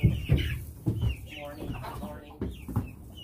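Meat chickens kept in a garden cluck and squawk close by in a busy, uneven chorus of short calls throughout, with some background noise mixed in.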